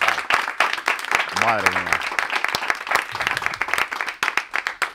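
Studio audience applause on a Spanish comedy radio show, a dense, loud wash of clapping that runs throughout while a host talks over it.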